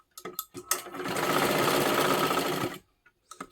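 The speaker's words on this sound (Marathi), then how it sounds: "त्याच्यावरती आपल्याला परत डबल शिलाई द्यायची आहे" A sewing machine runs a steady burst of stitching on silky fabric, sewing a double line of stitches, close and loud, framed by brief clicks and handling noises before and after.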